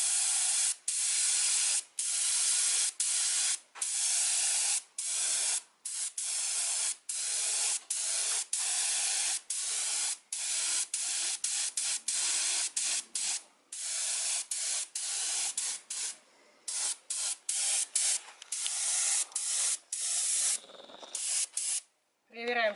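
Spray paint hissing onto an outdoor stone barbecue fireplace being repaired and repainted, in many short bursts with quick gaps, close and steady, some soft shading passes near the end.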